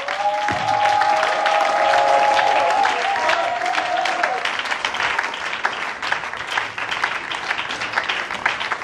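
A church congregation claps in a sustained wash of applause, loud and close, with a few voices calling out in praise as the clapping gradually thins.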